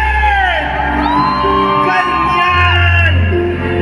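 A large crowd at a PDP Laban miting de avance political rally, loud and sustained, with drawn-out whoops and shouts rising and falling over a constant roar.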